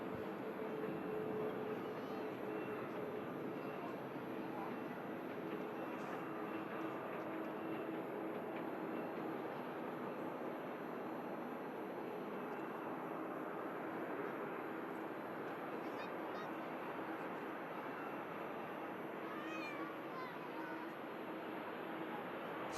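A Jet2 Boeing 737 arriving from Vienna touches down at Manchester Airport, a sustained distant jet roar with a faint steady tone running through it, unbroken and fairly even for the whole stretch.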